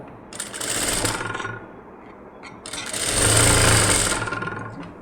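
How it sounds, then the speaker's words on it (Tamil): Sewing machine stitching a straight seam along the shoulder of an embroidered blouse, two sustained runs of loud, steady mechanical whirring with a short pause between them, close by and without speech. "இப்போ இந்த ஷோல்டர் பகுதியில் இப்படி நேராகவும் ஒரு தையல் போட்டுடுங்க"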